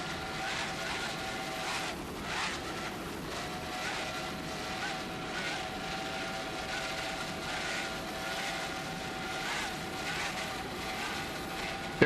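Offshore racing powerboats, an S-Class Team Stalker S8 and C-Class Accurate Marine C24, rounding a turn at Mallory Square in Key West, with a steady distant engine drone sustained throughout.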